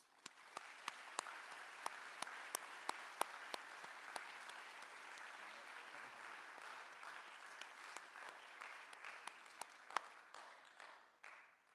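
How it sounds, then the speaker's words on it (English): An audience applauds students at a school awards night, a sustained, fairly distant wash of clapping with scattered sharp claps standing out, fading toward the end. "Let's give these students a round of applause."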